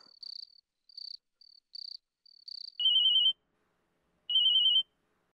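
An electronic phone ringtone: quick chirping trills repeat several times, then two longer buzzing rings follow with a pause between, clear and alone.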